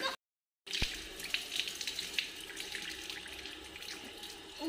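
Water is poured and splashed over a dog during its bath, a continuous close running-water gush with a sharp splash early on, after a brief silent gap at the start.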